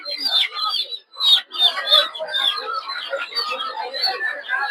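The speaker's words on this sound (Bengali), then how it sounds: "দেখতে পাচ্ছেন প্রচুর পরিমাণে হাঁস মুরগি।" Ducks and chickens for sale at a busy village market, their clucking and squawking calls overlapping in a near, continuous chatter of poultry noise.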